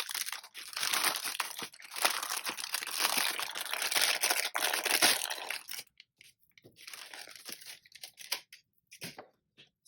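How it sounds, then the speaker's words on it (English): Plastic wrap crinkling and crunching as a Plum Paper A5 daily planner is unboxed, loud and continuous for about six seconds, then sparser, quieter rustles with gaps. "Sorry for anyone who does not like the crinkle sound."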